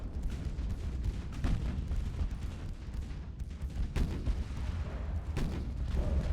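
Naval gunfire in the warship battle game Ultimate Admiral: Dreadnoughts, a continuous low rumble of distant heavy guns with repeated booms, some sharper reports standing out, with no talk.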